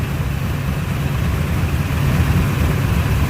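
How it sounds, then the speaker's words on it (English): The engine of a 1972 Chevy Corvette idles roughly with a deep, steady rumble, loud and close throughout, with no voices. "you just heard the whole motor slow down, and it also started idling a lot harder"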